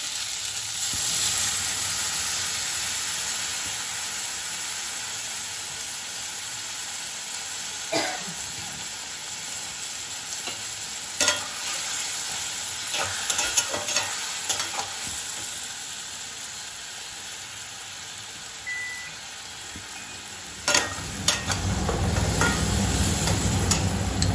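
Mustard water, strained from ground mustard, is poured into a pan of fried mola fish and eggplant for a Bengali mustard curry; steady oil sizzle hisses throughout with scattered clinks, then a deeper bubbling surge near the end.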